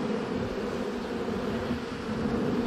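A honeybee swarm being tipped into a hive box gives off a loud, dense buzzing that holds steady and continuous close by the whole time, with no voices over it.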